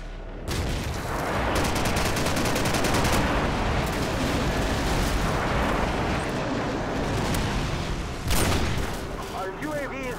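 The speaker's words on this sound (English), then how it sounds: "call in my airstrike." An airstrike in Call of Duty 4 multiplayer, a long rolling barrage of blasts and rapid gunfire close by, with a sharp burst near the end and a voice heard faintly.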